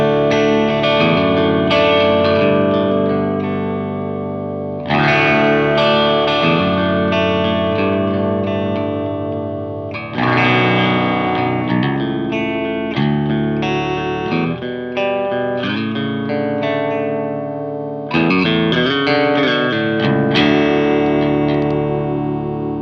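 An electric guitar with lipstick pickups in an alternative tuning rings out through effects with chorus, echo and mild distortion, strummed chords in several phrases over about twenty seconds, bright and shimmering, with no talking.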